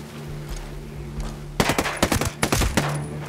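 Gunfire while shooting enemies in the video game Ghost Recon Breakpoint: a rapid string of sharp, loud shots in quick bursts, fired close over a steady low background hum.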